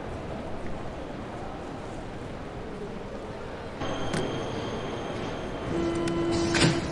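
A train in the video game Nobodies: Silent Blood rolls past, a steady rumbling hiss that swells partway through with metallic screeching tones and clanks near the end.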